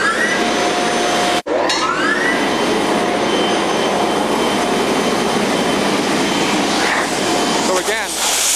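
A Ruwac FA2000 silo vacuum system, tied into central vacuum tubing, roars with a loud steady motor whine and airflow hiss, broken by a sharp pulse click and a brief drop before resuming, with a voice talking over it.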